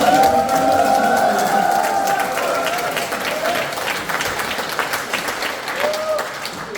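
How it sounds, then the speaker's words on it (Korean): Audience applause fills a small conference room at a second-anniversary ceremony, a loud, steady wash of clapping that runs the whole stretch while a voice talks over the opening seconds. "더 큰 박수 한번 부탁드리겠습니다"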